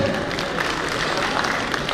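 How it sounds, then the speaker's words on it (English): Audience applause for a panelist at a national convention technical session, a steady dense clapping wash that fills the whole two seconds at moderate loudness with no voices. "Can we have a huge round of applause for sir?"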